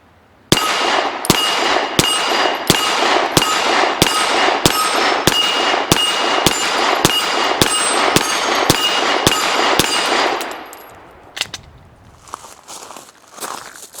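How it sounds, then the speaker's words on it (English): A Canik TP9 SF Elite pistol fires about fifteen rapid, evenly spaced shots of hot ammunition at close range, each a sharp loud crack, then falls quiet with a few faint clinks and handling noises afterward. "So one in the chamber, full magazine, and let's do some shooting."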